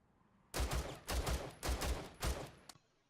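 Four loud, close bursts of rapid automatic gunfire from a 5.56 assault rifle in Rainbow Six Siege, each roughly half a second long and separated by brief pauses, with no talking.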